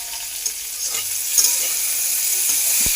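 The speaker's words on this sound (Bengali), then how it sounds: "আর এই যে আনাজগুলো আমি ভাজছি।" Vegetables such as bitter gourd, sweet potato, carrot and beans fry in oil for Bengali dudh shukto, a steady close hiss and sizzle with occasional stirring scrapes.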